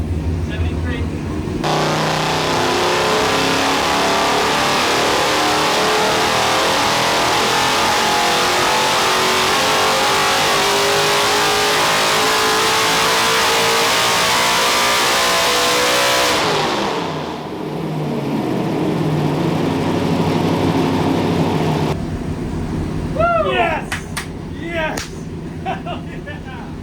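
A Ford F100 engine screams on a dyno, revving continuously past 7000 RPM, loud and sustained, then dropping off abruptly before a short burst and fading, with excited voices near the end.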